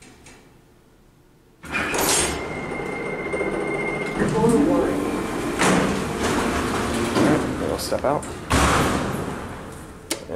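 A traction freight elevator door by ELCON slides closed in a university animal sciences building, a broad rumbling slide with thumps and a clunk near the end, close and fairly loud, with a voice speaking briefly over it.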